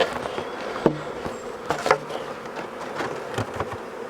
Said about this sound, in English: Bees look great.